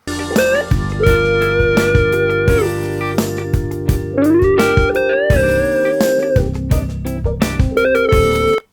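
A dry electric lead guitar plays sustained, bending melodic lines over a steady backing of bass and drums, with notes cutting off cleanly and no echo trailing behind.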